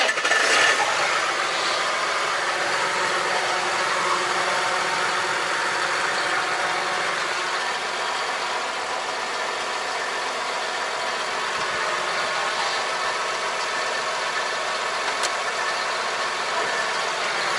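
A John Deere tractor engine idles close by, a continuous mid-pitched rumble and hum that holds evenly throughout without voices.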